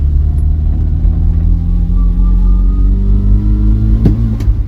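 A salvaged Vauxhall Viva engine with a freshly adjusted mixture screw revs as a loud, continuous low rumble, with a single sharp pop near the end.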